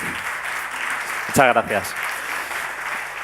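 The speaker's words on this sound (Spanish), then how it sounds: "Un aplauso para él." Brief applause greets an innovation event speaker talking about artificial intelligence, rising for a moment under steady room noise before a man thanks the audience.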